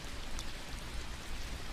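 Steady rain falling as a sound effect in a Korean horror audio drama, a continuous dense hiss of drops with no voices, even and moderately loud throughout.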